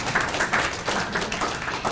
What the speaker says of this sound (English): Everybody give this man a round of applause.